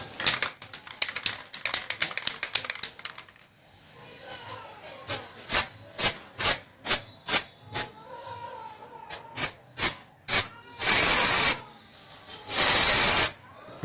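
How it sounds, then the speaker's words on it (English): Rapid rattling clicks and short hissing puffs come in quick succession, ending with two longer, loud bursts of aerosol spray paint from a can onto an old sewing machine. "Keep a moderate distance when spraying."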